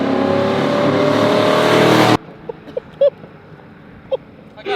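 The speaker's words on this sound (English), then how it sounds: "lay down in the road while a car flies by you" A 1934 Chevy Master Deluxe classic car roars past at close range, loud engine and road noise building for two seconds before cutting away to quiet, with a few faint thumps and brief sounds afterward.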